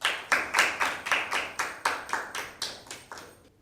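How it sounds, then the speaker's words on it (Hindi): An audience at a school Bible quiz claps for two teams in about a dozen separate, evenly spaced claps that fade out at the end, close and without talk. "दोनों टीमों के लिए ज़ोरदार तालियां"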